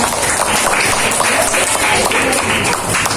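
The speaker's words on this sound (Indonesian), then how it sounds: "Oke, tepuk tangan" A classroom of children claps together loudly and close by, a rapid, dense patter of small hands sustained for a few seconds without speech.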